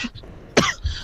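A person imitates a cough with a single sharp, close burst, preceded by a few faint throaty sounds and followed by a short low rumble.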